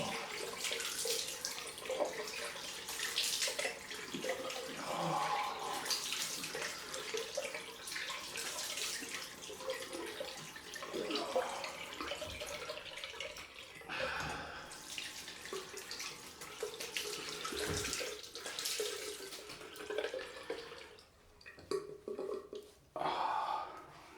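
A bathroom tap runs for a cold rinse during a wet shave with a Merkur 34c HD razor, a steady close stream broken by splashing, hand movements and a few gaps near the end.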